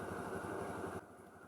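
A Yamaha Xeon scooter with a dual-starter carburetor idles steadily after tuning, giving a close, continuous engine drone that drops slightly in level near the end.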